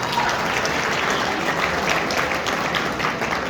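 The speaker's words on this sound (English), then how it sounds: "Another round of applause, please." Sustained applause from an audience at a school gala evening, a steady wash of many hands clapping at even loudness throughout.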